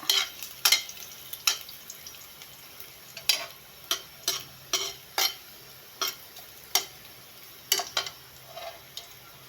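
Chopped onion and garlic sizzling in hot oil in a pan, with a steady frying hiss broken by a dozen or so sharp clinks and scrapes of a spatula stirring against the pan, close and fairly loud.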